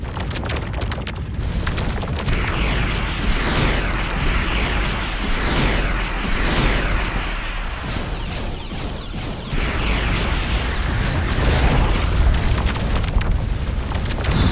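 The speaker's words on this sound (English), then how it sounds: "Glorious reactor explosion." A roaring, crackling reactor explosion sounds in the space game Starcom: Unknown Space, a dense sustained rumble with repeated bursts and booms that stays loud for the whole stretch.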